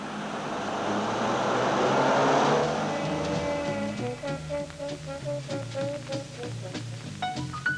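A 1960s Ford Taunus 17m P5 with a 70-horsepower engine drives along a road, its steady engine hum swelling then easing under music, fairly close and moderate in level.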